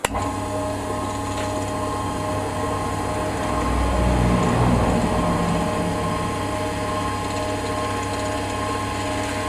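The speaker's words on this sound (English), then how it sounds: "Let's pop that on there, pop that on there, bring up the tailstock and see what happens." A wood lathe's tailstock being wound up and tightened onto 7mm pen bushings, giving a steady close mechanical ratcheting and grinding hum that swells briefly midway, with no voices.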